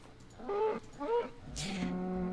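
A video game cow lets out two short moos followed by a longer, drawn-out low moo, all close and clear with no talk over them.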